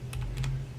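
A few quick keystrokes are tapped on a computer keyboard during web development setup, a brief close clatter of three or four clicks with no voices.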